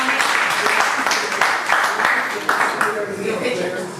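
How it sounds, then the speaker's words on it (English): Participants at a closing session of a justice-themed community event give a round of applause, with brisk, continuous clapping that rises and dips slightly, mixed with some voices. "please give yourselves a round of applause"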